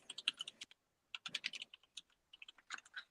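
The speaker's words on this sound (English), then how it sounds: "Aggressively typing." Aggressive typing on a computer keyboard: quick clattering keystrokes come in three hard bursts separated by short pauses, close and clear with no talking.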